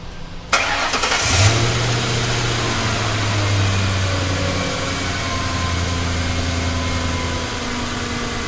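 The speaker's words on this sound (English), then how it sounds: "he's gonna start the engine up" A car engine cranks and catches during a fuel pressure check, revs up briefly, then settles into a steady, even idle that hums on close by with no talk.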